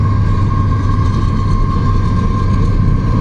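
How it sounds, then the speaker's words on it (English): A yellow train crosses the Meramec River Bridge in St. Louis County, a loud, steady rumble with a droning tone on top that holds evenly and close throughout, with no voices. "It's a yellow choo-choo."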